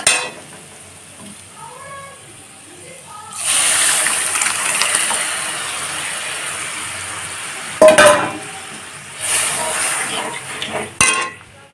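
Boiled masoor dal stirred in a pan with fried onions, salt, turmeric and chili powder, heard as bursts of scraping and gentle sizzle between quieter stretches, close by, with a brief faint voice-like sound near the start.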